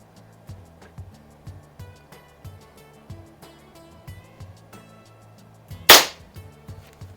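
A single sharp crack from a Walther LGR single-stroke pneumatic .177 air rifle firing a pellet, loud and brief against a quiet background with faint low clicking and rustling.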